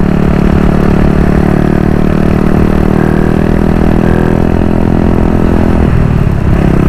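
A motorcycle with a freshly rebuilt engine being ridden gently during break-in, a steady close engine drone with a constant low hum that shifts slightly near the end.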